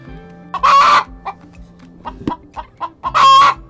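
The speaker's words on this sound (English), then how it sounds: "the chicken scared the crap out of me" A backyard chicken in a spring garden lets out two loud, bursting squawks at the start and end, with soft scattered clucks and rustling in between, close to the listener.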